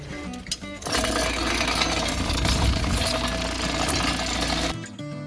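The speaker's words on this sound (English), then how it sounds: "So I got this rock tumbler over here." Rock tumbler running with rusty 1970 Cadillac headlight buckets inside, a steady loud rattling churn that starts after a brief knock and runs without pause, then cuts off near the end.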